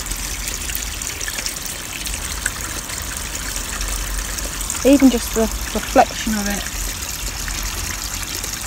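Water trickles steadily into a garden pond, oxygenating it, as a continuous bright splashing wash, with a brief stretch of nearby talk partway through.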